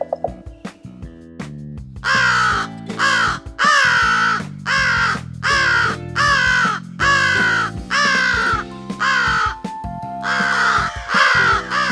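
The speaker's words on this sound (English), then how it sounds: "crows make a higher-pitched, nasally, cawing sound" An American crow caws repeatedly in a steady series of harsh, higher-pitched, nasal calls, loud and close, each caw separated by a short pause.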